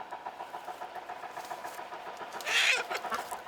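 A chicken, likely a rooster, clucks and squawks as it is grabbed for a sacrificial matagh ritual at an Armenian holy site, with a steady low rumble of wind behind and a louder flurry near the end.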